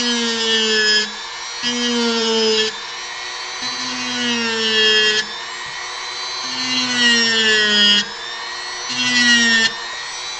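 A handheld rotary power tool with a sanding attachment whines against a wooden sphere, its high pitch dipping and rising in repeated passes of a few seconds each, loud and close with brief breaks between strokes.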